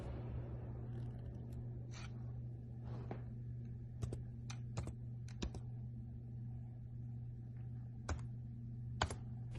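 Computer keyboard shortcut keys pressed on a PC, a sparse series of crisp individual clicks and taps at an unhurried pace over a steady low hum, fairly quiet and close.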